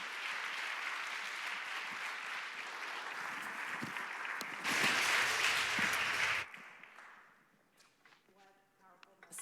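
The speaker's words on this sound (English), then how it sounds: "Again, we'll give them a round of applause." A conference audience gives the panel a sustained round of applause, dense clapping that swells louder near the end before cutting off and fading to scattered claps and faint voices.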